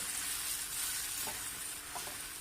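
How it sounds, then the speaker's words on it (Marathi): Onion and spice mixture with asafoetida and coriander sautéing in a pan, a steady close sizzle with faint stirring scrapes and no voices. "थोड्याशा ह्या मिश्रण परतून घ्यायचे मसाल्याचा कच्चेपणा जाईपर्यंत"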